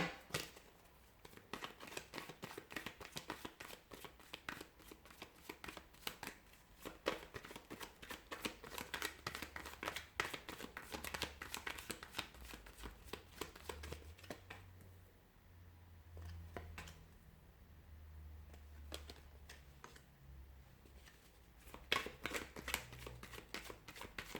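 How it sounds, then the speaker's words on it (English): A tarot deck is shuffled repeatedly, a dense stream of soft papery riffles and slaps, fairly quiet and close, with brief pauses. "give the cards a shuffle"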